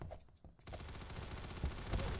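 An SKS rifle fires in rapid bursts in the online shooter game AIMBLOX: quick, dense cracks of gunfire at moderate loudness that keep going after a brief lull near the start.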